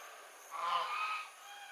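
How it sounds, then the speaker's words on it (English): A single goose honks at night at a nature resort in Malaysia, a brief moderately loud call at mid-distance over quiet background hiss. "I heard another goose, guys."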